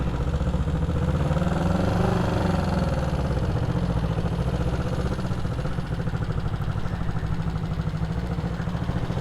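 A parked motorcycle idles at a low, steady, throbbing rumble with a fast, even pulse. It stays close and loud for about nine seconds, with no talk.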